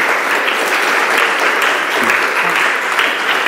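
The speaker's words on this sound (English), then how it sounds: "Please give him a round of applause." Sustained, dense applause from a crowd at a mentorship session, loud and steady throughout with no break.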